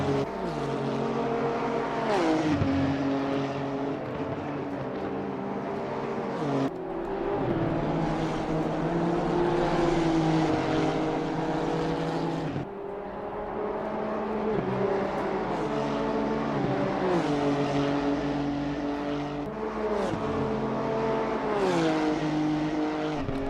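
Pan Am series race cars lapping the Monza circuit, their engines roaring loudly and continuously with rising and falling pitch as they accelerate, shift and pass.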